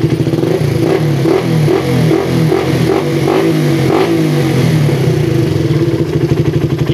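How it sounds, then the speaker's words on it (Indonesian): A motorcycle engine fitted with a PWK carburetor, loud and close, idling steadily with a rapid pulsing rhythm and a few quick throttle blips rising and falling, no talking. "Idle stabil, dibiarkan lama nggak ada ngeses karena ini sudah saya setting ya, udah normal banget."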